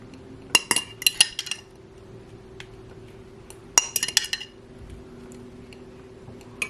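Metal cutlery clinks and scrapes against a plate while cutting a soft Thanksgiving leftover stuffing waffle with cranberry sauce into pieces, a few sharp close taps in two clusters with quiet between.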